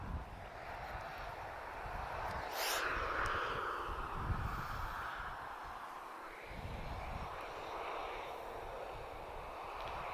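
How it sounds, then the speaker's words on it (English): A Transavia Boeing 737-800 arriving from Eindhoven rolls in at Lisbon Airport, its jet engines a steady, distant broadband roar that swells slightly and then eases, with no voices. "So 737-800, he's just arrived from Eindhoven, Transavia, Hotel Victor 6203"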